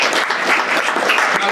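Audience at a veterans recognition breakfast applauding, a dense, steady burst of clapping from a room full of people.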